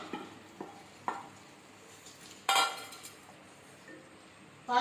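A spoon scrapes and clinks as lentils are stirred into a jackfruit payasam mixture in a pot, a few sharp taps followed by louder bursts of stirring, quiet between strokes.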